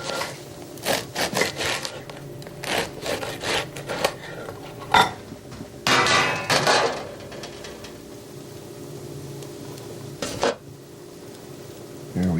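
A knife slicing a loaf of bread on an angle in a home kitchen, a run of short rasping saw strokes in bursts with quiet gaps between them, close and fairly loud.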